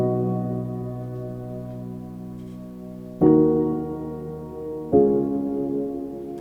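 Dark, moody piano chords for a beat's chorus, a sustained chord ringing out and then two fresh chords struck at a slow pace, played alone with no drums.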